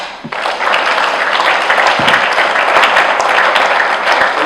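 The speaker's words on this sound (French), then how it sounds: "Je voulais aussi que vous puissiez applaudir le courage de Luc." A congress audience in Kisangani bursts into loud, sustained applause, a dense wash of clapping that starts abruptly and holds steady throughout with no speech over it.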